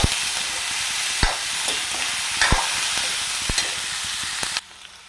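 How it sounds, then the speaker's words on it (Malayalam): Capsicum sizzling in a pan for paneer chilli roast, a steady close frying hiss broken by several sharp spoon taps and scrapes against the pan as it is stirred, then quieting near the end, with no speech. "പിന്നെ ഒരു ക്യാപ്സിക്കം അതിട്ടിട്ട് ഒന്ന് വഴച്ചു കൊടുക്കാം"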